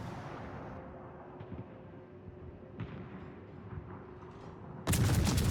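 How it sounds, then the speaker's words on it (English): Artillery shells booming in a video game, a continuous rumbling barrage with occasional sharper impacts, ending in a sudden loud close blast of fire in the final half second. "Definitely landed some good shells on him."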